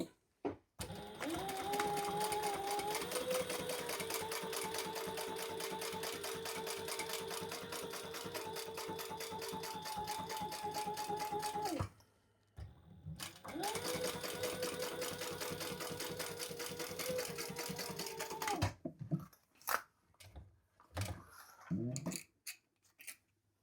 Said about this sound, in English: Don't base it, just top stitch only.